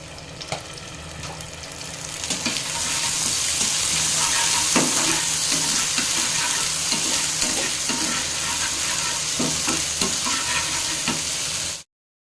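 Ginger garlic paste added to onions already browned in oil in a pan, frying with a loud continuous sizzle while a utensil stirs and scrapes at irregular intervals, fading sharply at the end; no voices.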